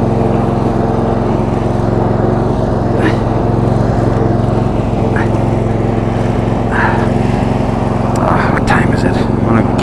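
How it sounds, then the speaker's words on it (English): Small lawn tractor engine running steadily while being driven, a loud continuous close drone with slight variations and faint clicks of movement. "I know it's only a lawn tractor,"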